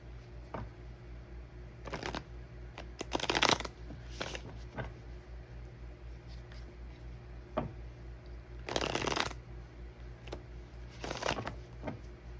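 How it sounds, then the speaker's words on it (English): A deck of tarot cards is shuffled by hand in several separate bursts of riffling and sliding, close and fairly loud, with quiet pauses between them and no talking. "Give the cards a couple more shuffles here."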